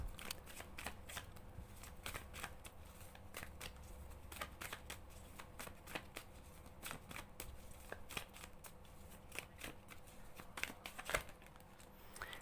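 Tarot cards shuffled and handled in a quiet room, a steady run of crisp papery flicks and riffles that keeps going throughout with no talk.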